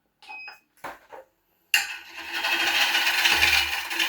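Bowl gouge cutting into a spinning wooden bowl on a woodturning lathe, entering as a sudden steady rasping scrape that runs on continuously and close after a couple of brief quieter knocks.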